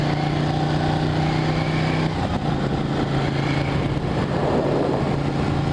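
Motorcycle fitted with a quick shifter, ridden with the clutch: a steady engine drone with a tonal whine that drops in pitch about two seconds in, as on a gear change, then continues as rougher broadband engine and wind noise.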